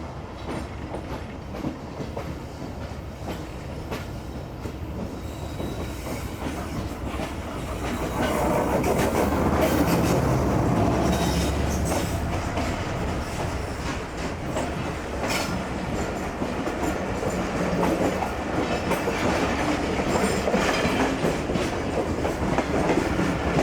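A train hauled by a GU40 locomotive rolls past in Pakistan, a continuous loud rumble with rhythmic clickety-clack of wheels over rail joints that swells midway and stays heavy throughout, heard close without voices.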